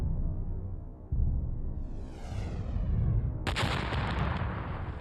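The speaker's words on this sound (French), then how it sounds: "L'explosion projette dans l'atmosphère un nuage de poussière qui couvre la planète d'un voile sombre." A deep rumbling roar swells with a rising whoosh, then a sudden loud blast of a giant meteorite impact erupts and keeps booming, heavy and cinematic.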